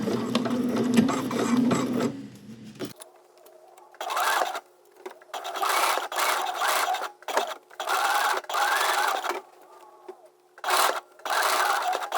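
Sewing machine stitching pleats at a 5/8 inch seam allowance on a Simplicity 8926 garment, running in repeated loud bursts of rapid whirring separated by short pauses, with no talk.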